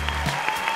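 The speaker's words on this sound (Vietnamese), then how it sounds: "vỗ tay cổ vũ cho cô nàng đội trưởng xinh xắn này nha" A live studio audience at a Vietnamese school quiz show bursts into steady applause for a team captain, a dense continuous wash of many hands clapping at close range with no voices over it.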